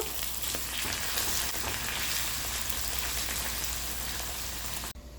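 Chopped onions fry in a pan for a Malabar spinach and shrimp dish, giving a dense, crackling sizzle that carries on steadily without talk before cutting off just before the end.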